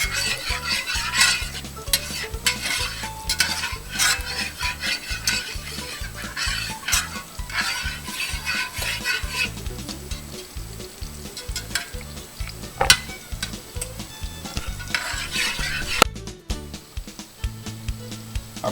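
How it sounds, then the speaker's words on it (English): Butter and oil heating in a pan give a steady, close, crackling sizzle that runs unbroken, with light stirring scrapes and no talking. "Our butter and our oil are nice and hot here."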